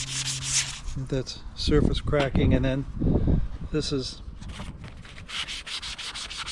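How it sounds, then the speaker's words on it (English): Sandpaper of 120 grit rubs over the cracked surface of a 1955 Triumph TR2 steering wheel during refurbishment, giving short scratchy strokes close by, interleaved with someone talking. "this is 120 grit sandpaper, and I've been doing the surface area around it"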